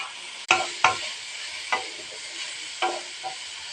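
Chopped capsicum, salt and spices are stirred in hot oil, giving a soft sizzle broken by several sharp scraping clacks of a spatula against the pan, with no talk.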